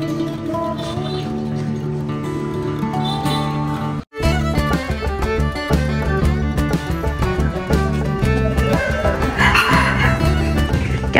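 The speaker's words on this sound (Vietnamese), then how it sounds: "Trong đây thì có bao gồm mấy con Serama màu xám nè, màu trắng với màu vàng của mình luôn đó." Serama chickens in grey, white and yellow cluck and crow at close range, over and over, with a brief gap near the start before the loud, dense calls resume.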